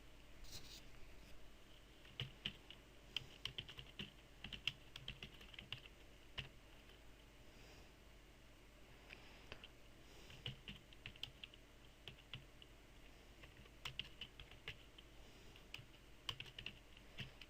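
Names are typed into an Excel 2007 spreadsheet on a computer keyboard, giving faint, irregular clusters of key clicks with short pauses between bursts.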